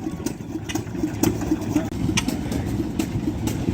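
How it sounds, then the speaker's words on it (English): Antique stationary engine at a farm power show, just started and running: a steady rapid chugging beat with sharp periodic exhaust pops over a low rumble, fairly close. "We've got these two fellas getting this one going. Look at that, off she goes."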